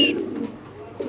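Blue bar pigeons at a pigeon farm give soft, low cooing calls nearby, in two or three short rounded bursts with quiet gaps between them.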